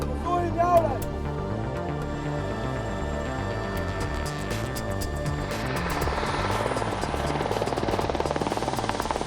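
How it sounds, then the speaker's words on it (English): A transport helicopter used by a light air defence squad in rough terrain drones steadily with a rhythmic rotor chop and engine whine, loud and close throughout, with a voice heard briefly over it. "When taken up firing positions in less accessible terrain, a transport helicopter is often used."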